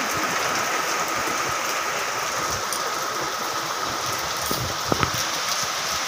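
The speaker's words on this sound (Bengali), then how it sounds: "এই দেখো কি জোরে বৃষ্টি এসেছে" Heavy rain pours down in a steady, dense hiss that stays loud and unbroken throughout, with a couple of faint knocks near the end.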